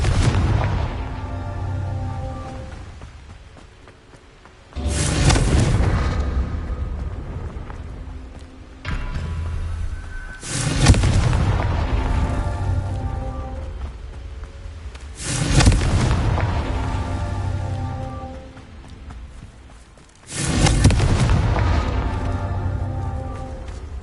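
Booming fire-spell explosions from the Confringo charm in the game Hogwarts Legacy, five heavy blasts at roughly five-second intervals, each followed by a long rumbling decay, loud and close with no talk.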